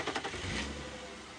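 A safari vehicle's engine idles and rumbles at low volume, with a slight rev at the start that settles into a steady hum.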